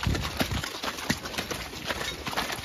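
A team of horses clip-clops steadily along a woodland drive in spring snow, hoofbeats soft and muffled under a steady hiss of outdoor noise.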